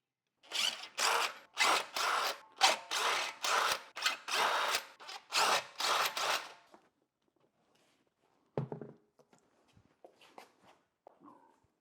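A power tool working on a BMW wheel, spinning in about eight loud bursts close by, then stopping, followed by faint clicks and handling noises.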